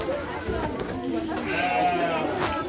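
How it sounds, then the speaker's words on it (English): A baby goat bleats at a farm, a few wavering cries in the middle of the clip with someone talking over them and outdoor background noise. "And this is the baby goat."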